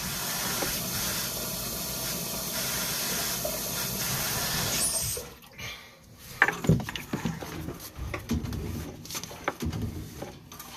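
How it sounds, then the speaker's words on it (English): Water hisses and rushes steadily through a sewer pipe during a camera inspection for about five seconds, then cuts off to scattered knocks, drips and splashes. "I'm going to kick on some water to help me get over that offset."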